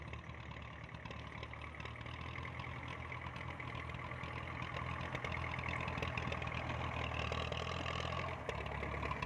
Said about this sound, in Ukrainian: Да, якийсь тракторець вже бідолашний, замучений